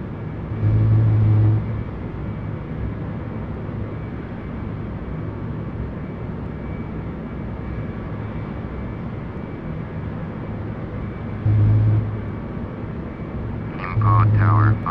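Airbus A321 in Asiana livery taking off in Flight Simulator X, a steady broadband engine roar holding throughout with brief louder surges, while a voice speaks near the end.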